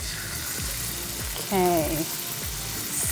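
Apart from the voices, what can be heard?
pork sizzling while browning in a pan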